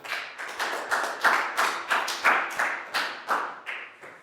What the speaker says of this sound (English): big round of applause for Pat and high five